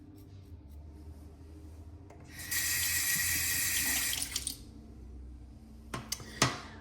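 A tap runs into a sink to wet the face for a shave, a steady rushing stream for about two seconds among quieter handling noises and light splashes.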